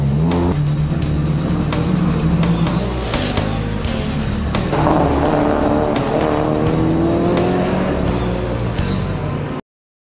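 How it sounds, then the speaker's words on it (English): A Mazda RX-7 race car engine roars loudly and continuously during underground racing, revving hard and climbing through the gears, with tires squealing as it drives close by. "This is an RX-7."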